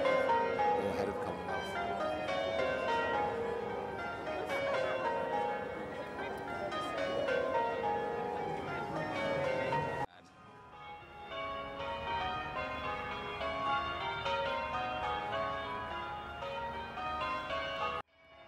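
Church bells peal continuously in a dense, layered cascade of overlapping strikes, loud and sustained, with a brief break midway before the ringing resumes just as fully.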